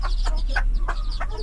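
Young chicks clucking in short, repeated bursts of a few chirpy calls, close by and fairly loud over a steady low background hum, with no one talking.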